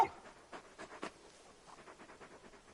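A very large dog companion in the video game Final Fantasy XVI pants in quick, soft breathy bursts, fairly close and quiet, with no talk over it.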